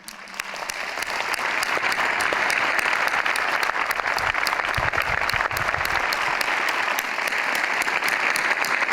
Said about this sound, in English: Please applaud his memory.